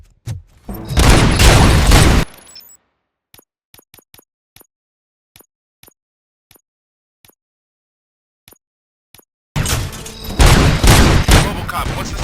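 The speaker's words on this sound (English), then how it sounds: "Gunshots? What's going on?" Gunfire in the Robocop: Rogue City video game arrives as a loud dense burst at the start, then a string of separate faint distant shots, then another heavy burst of fire at the end.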